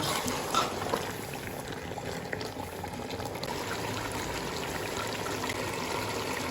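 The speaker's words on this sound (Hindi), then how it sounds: "और अब हम इसमें ऐड करेंगे पानी।" Water poured into a pot of pumpkin and chicken curry, a steady bubbling, gushing pour with sizzling under it, continuous and close for several seconds.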